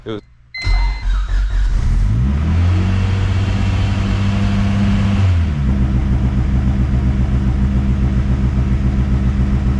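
K-swapped Honda CRX engine on a weak old battery: a brief click and stutter, then a rising crank that catches and settles into a loud, close, steady idle with a clear droning hum. Talk is heard at points.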